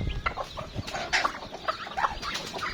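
Several chickens and chicks cluck and chatter close by in a steady, busy stream of short calls, with no one talking.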